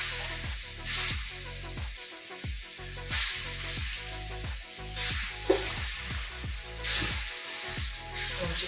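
Bacon and cabbage fry together in a pan for colcannon, a steady close sizzle broken by repeated stirring scrapes in a regular rhythm, with no talking.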